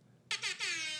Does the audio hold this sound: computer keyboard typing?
no